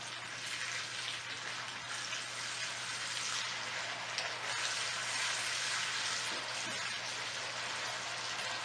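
A tablespoon of ginger garlic paste fries among onions in a pan, giving a soft, continuous crackling sizzle that stays even and fairly faint throughout, with no talking.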